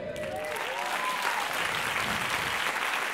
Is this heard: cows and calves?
no